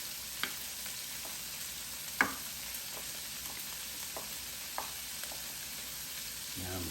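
Peas and carrots frying for Spam fried rice in a Power XL cooker, with a steady close sizzle and a few soft stirring knocks.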